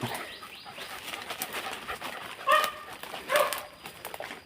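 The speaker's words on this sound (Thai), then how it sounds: "เสียงของหมาแดงพี่น้อง" Two short, distant dog barks ring out in a forest after rain, amid steady outdoor background noise, with faint rustling before them.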